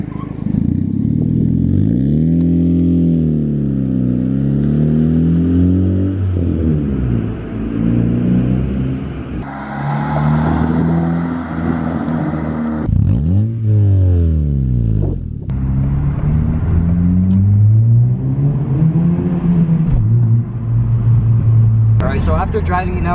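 A Honda Civic with a Skunk2 exhaust revs and pulls away, its engine note rising and falling through several gear changes, loud and close at first with wind noise over the microphone.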